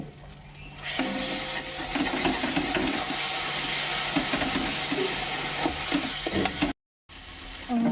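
Meat sautéing in oil while being stirred, the frying well advanced with the oil separating from it; a steady loud sizzle and hiss fills the clip, broken by irregular scraping stir strokes and a brief dropout near the end.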